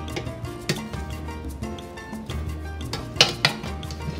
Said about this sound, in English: Now it's time to stir it